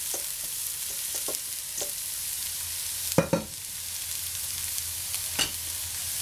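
Onion and pumpkin frying in a pan, a soft, steady sizzle with occasional light scrapes and knocks of stirring, including a louder clatter midway.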